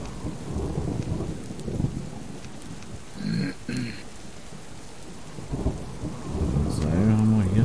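Rain and rolling thunder in the survival game Subsistence, a steady downpour pattering on surfaces with low thunder rumbles swelling at intervals, loud and close, with a few short tonal game sounds near the end.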